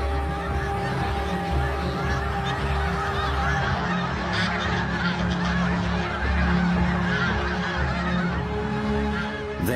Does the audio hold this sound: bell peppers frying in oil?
no